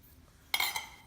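A utensil clinks once against a bowl while sugar, brown sugar and cinnamon are mixed for a cinnamon roll filling, a brief, bright, fairly close metallic contact in a quiet kitchen.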